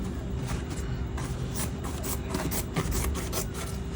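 Rhythmic rasping snips and rubbing of scissors chewing through thick folded fabric for a kaftan dress, repeating steadily and close by with no talking.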